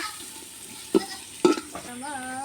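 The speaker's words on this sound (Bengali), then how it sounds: "পেঁয়াজ এগুলান সব ভাজা হয়ে গেছে লাল লাল করে" Onions frying with black peppercorns and cloves, stirred in the pan: a few sharp scraping strokes over a low steady sizzle, then a brief tonal whine at the end.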